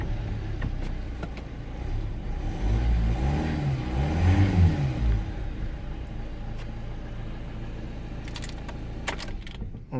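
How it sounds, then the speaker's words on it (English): A car engine fitted with an immobiliser cranks, catches and settles into a smooth, normal idle, with a brief rising rev as it fires. Faint metallic key jingles click in and out around it. "the vehicle starts completely as normal"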